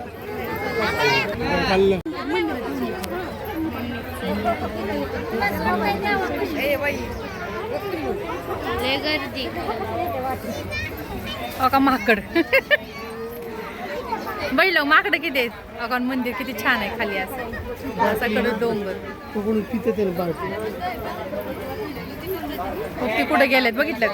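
Dense crowd chatter at a busy Ramling pilgrimage spot, many overlapping voices and footsteps throughout, with nearby people talking close to the mic.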